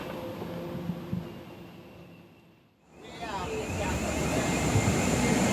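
An airplane engine whines while passengers board, its noise fading to a near lull then swelling into a steady, louder jet roar with a rising whine.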